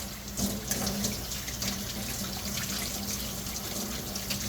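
Cleaned 925 silver and stainless steel jewelry rinsed under a running tap, a steady close hiss of flowing water splashing into a sink with faint clinks, no talking.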